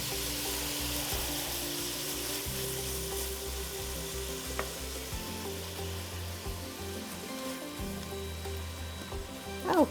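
Chopped vegetables for vichyssoise softening in a pot, giving a steady, close frying sizzle with occasional stirring clinks throughout, no voices.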